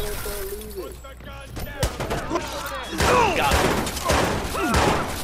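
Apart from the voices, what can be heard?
gunfire in the Watch Dogs video game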